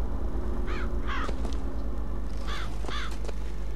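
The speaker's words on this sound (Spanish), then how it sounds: "hay muchos cuervos aquí" Several crows caw in the video game BioShock Infinite, two separate bursts of harsh repeated calls over a steady low ambient hum, fairly close and clear with no talking.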